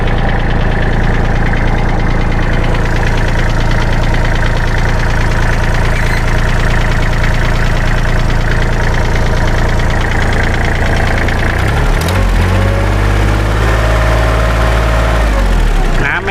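A used walk-behind farm tractor engine idles steadily and loudly up close, a continuous knocking chug that holds the whole time, with a brief clatter of handling near the end.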